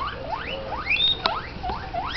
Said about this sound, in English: That's the Guinea making that noise.